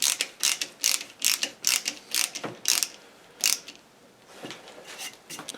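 A hand screwdriver drives screws into pilot holes, producing a rhythmic series of sharp ratcheting clicks, about ten close strokes, then fainter, sparser turns.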